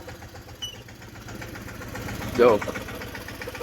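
A tractor engine idles steadily with a low, continuous rumble, heard before dawn, while someone speaks over it.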